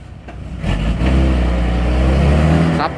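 A car engine revs hard and loud, climbing and dropping in pitch as gears are shifted quickly in a hard launch, with a brief quieter gap at the start before sustained roaring acceleration.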